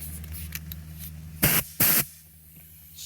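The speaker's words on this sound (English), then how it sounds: "Froggy has compressed air." Two loud hissing bursts from a can of compressed air blowing dust out of the nooks of a Dyson or Shark vacuum, each about half a second, over a low steady background hum.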